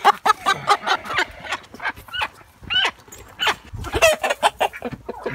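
Chickens in a backyard coop cluck busily and close by, with a rooster and a broody hen among them, the calls coming in quick overlapping bursts that rise and fall over several seconds.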